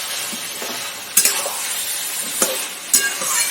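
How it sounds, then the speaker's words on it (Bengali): Chicken coated in spices stirred in a hot pan, a steady sizzle broken by a few sharp scrapes and clatters of the spoon against the metal, close up and with no voices. "ঢাকনাটা উঠিয়ে দেখে নেব নাড়িয়ে দিতে হবে মশলাগুলো সব ওপর দিয়ে দিয়ে রেখেছিলাম তো এবার এটাকে নাড়িয়ে দেবো"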